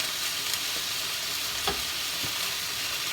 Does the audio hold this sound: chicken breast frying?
yes